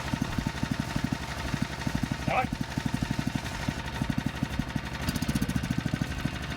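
A Wheelhorse racing lawn mower engine runs just after startup, a loud, steady rapid chugging idle close by that continues throughout with slight unevenness.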